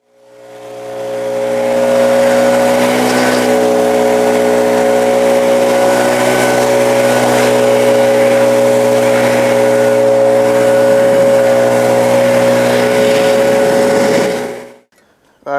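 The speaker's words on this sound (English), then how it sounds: "Now I need to take the blower and blow this off and get it pretty dry" A gas leaf blower drives air across cleaned outdoor pavers to dry them, a loud steady droning engine hum that ramps up, holds for about twelve seconds and then shuts off.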